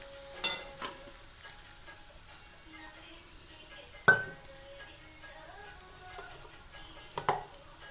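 Puris frying in hot oil, a soft, low sizzle running steadily underneath, with a few sharp metallic clinks and scrapes of a utensil against the pan at scattered moments.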